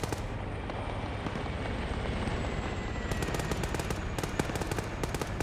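Rapid bursts from a light machine gun crackle in a video game battle, with a dense, constant background of gunfire and rumble and sharp rattling volleys in the later part.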